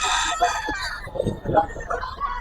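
A gamecock stag crows nearby at a market, a loud drawn-out cock-a-doodle-doo followed by clucking and other chicken noises, with voices mixed in.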